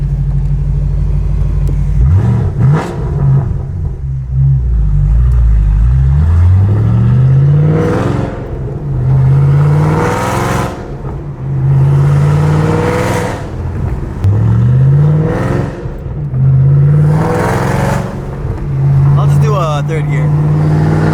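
A Shelby GT500 with a JBA off-road X-pipe and Borla exhaust and no long-tube headers accelerates hard through repeated rising revs and gear changes, engine loud and close, with someone talking over parts of the run.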